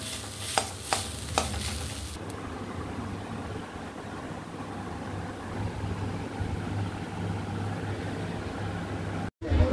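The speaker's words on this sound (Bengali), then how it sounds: "শুধুমাত্র কড়াইটা একটু নেড়ে নেব।" A kadai of filling for chicken sandwiches is stirred, giving a few sharp scraping clinks at first. A steady sizzle and hiss of frying follows, then a brief cutoff at the end.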